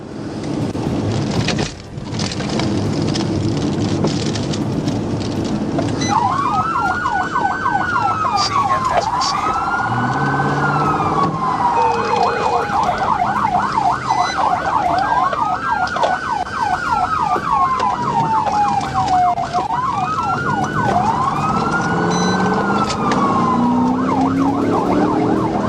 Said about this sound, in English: Sirens blared, no compliance.